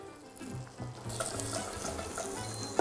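Butter and sugar foam and sizzle in a pan on the way to caramel, a steady soft crackling fizz with a few bubbling pops, moderately quiet and close, with no talk over it.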